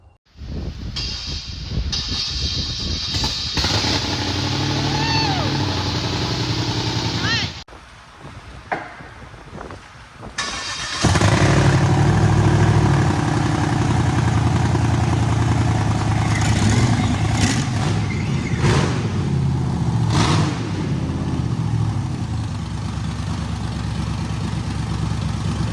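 LS V8 engine in a Subaru BRZ being built for drifting, loud and close, revving with rising and falling roar, a brief drop to quieter idle midway, then a steady heavy rumble.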